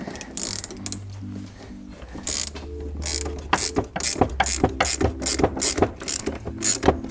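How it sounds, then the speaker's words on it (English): A Halfords Pro ratchet spanner clicks in quick runs of sharp mechanical ticks, close and clear, with pauses between strokes and a low steady hum underneath. "That's a nice ratchet spanner."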